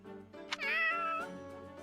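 A cat meows once in the Three Hopes video game, a clear, drawn-out rising and falling cry at moderate volume over a soft background hum.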